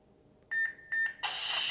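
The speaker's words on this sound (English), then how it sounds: "Once you hear that first beep" Two short, bright electronic beeps from a lightsaber in quick succession, followed by a burst of crackling hiss, close and clear.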